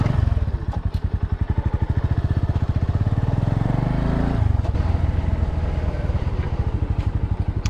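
Bajaj Boxer motorcycle ridden off-road through a swampy forest, its single-cylinder engine thumping steadily up close, revving and chugging in a rapid pulsing rhythm throughout.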